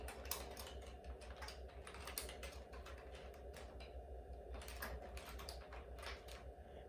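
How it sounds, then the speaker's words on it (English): Rapid keystrokes on a computer keyboard as a C++ program is typed into the nano editor on a Raspberry Pi 4, with steady close clicking in irregular bursts over a low constant hum, no voices. "I'll start typing my program in nano."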